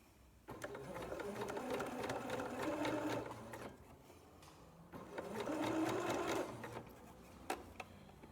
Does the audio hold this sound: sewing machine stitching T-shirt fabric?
yes